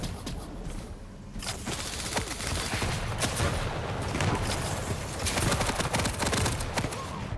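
Rapid nail gun fire in the video game Quake Champions, a dense continuous stream of sharp clattering shots over busy game noise, loud and sustained throughout.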